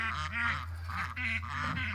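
Ducks on a homestead quack and honk in repeated harsh calls, loud and close, over a steady low hum.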